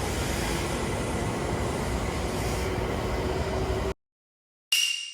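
Tohoku Shinkansen Nasuno E2 series bullet train rushing past, a loud continuous roar of wind and rolling noise with a faint high whine, cutting abruptly to silence before a brief return.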